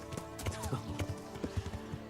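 Horse hooves clip-clop in an uneven trotting rhythm, close and fairly quiet, with a brief snort or whinny amid the steps.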